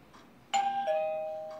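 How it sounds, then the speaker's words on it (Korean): A two-tone ding-dong doorbell chimes once at night inside a home in a Korean fantasy romance drama, clear and fairly close, its second tone ringing out and fading slowly with no talk over it. "그때 난데없이 초인종이 울리고"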